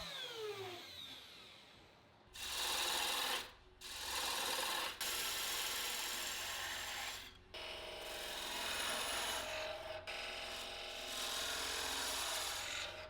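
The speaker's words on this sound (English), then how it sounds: "I finished things off with a spokeshave to give handmade visual appeal to the piece." A spokeshave shapes a wooden cabinet leg in several long rasping strokes, each a loud scraping burst separated by brief pauses, heard close with no talking.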